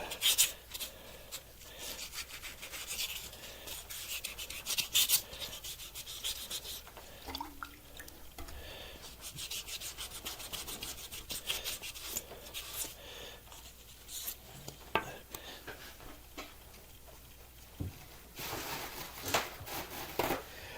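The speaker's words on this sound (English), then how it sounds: "I was sanding away on this one" Hand sanding a homemade micarta-like composite piece, a continuous dry, raspy scrubbing with irregular strokes and short pauses, close and fairly quiet, without speech.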